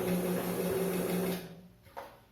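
A sewing machine runs steadily for about a second and a half while backstitching around the edge of a fabric protective mask, then stops, leaving a short faint click afterward.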